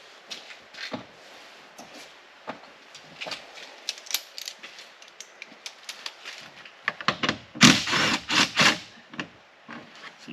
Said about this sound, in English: you take out the two 10mm bolts that are behind the first cover you took out